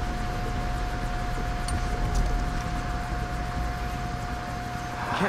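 A Far Cry 3 helicopter droning steadily at moderate distance, a continuous rotor and engine rumble with a constant hum, no talk.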